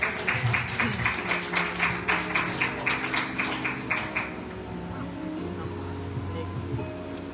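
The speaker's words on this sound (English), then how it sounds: "Let's give her a great big hand clap." A church congregation at a revival service claps in a steady, rhythmic beat for about four seconds, then the claps stop and a lower murmur of voices and room sound continues.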